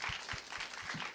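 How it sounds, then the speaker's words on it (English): A crowd claps after a BOTOLO tournament game at Fantastic Arcade 2015. The brief, fairly quiet patter of applause is steady and sounds slightly distant. "applause for this"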